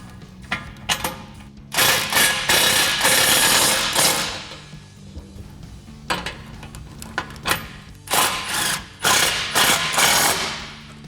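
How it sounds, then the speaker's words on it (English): A ratchet fitted with a 17mm socket tightens front bumper bolts on a Jeep Gladiator JT, giving repeated close bursts of rapid clicking separated by short pauses. "we can take our 17mm socket to tighten these down"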